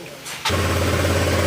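A small motor scooter engine cranks briefly, catches with a sudden jump in loudness, then settles into a steady buzzing idle close by.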